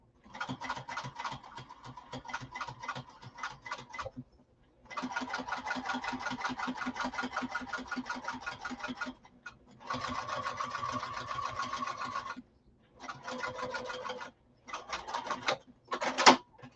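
A sewing machine stitching along a fabric edge runs in several bursts of rapid, even mechanical chatter separated by short pauses, close and steady with no voices.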